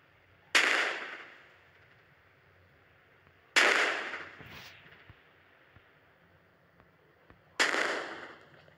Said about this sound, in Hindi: मैं अभी से तोप से उड़ाने वाला हूँ इस गाड़ी को।